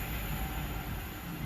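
A Class 390 Virgin Trains Pendolino passes at Tamworth on the West Coast Main Line, a loud, continuous roar of wheels and rushing air close by, heard alone.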